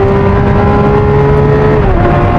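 A Lamborghini Aventador SVJ with its V12 engine in a stuttery launch, the loud, dense engine roar pulling hard with a pitch drop at a gear change, heard close with no talk.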